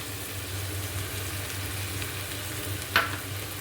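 Curry leaves sizzle and crackle in hot oil with ginger-garlic paste, a steady close frying hiss with one brief sharper pop near the end, no talking.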